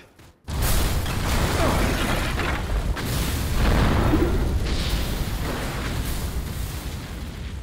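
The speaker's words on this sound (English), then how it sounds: "Why did the building explode?" A building exploding in the Resident Evil 6 video game: a sudden loud boom after a brief quiet moment, then a sustained, heavy rumbling roar of debris and fire that stays loud throughout.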